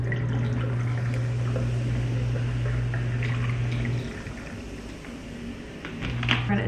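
Tonic water poured for a lemon cocktail, a steady liquid pour with a low filling tone for about four seconds, then quieter splashes and clinks; no talk.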